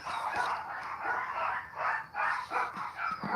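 Dogs bark and yip repeatedly in bursts at some distance during a door-knocking visit, the noisy barking filling the scene with no clear talk.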